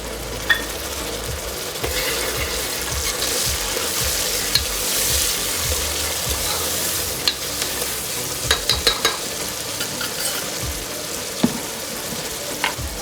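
Tomatoes go into frying onions for a Kathiyawadi veg pulao, giving a steady close sizzle and stir with scattered spoon scrapes and small clicks throughout, with no talking.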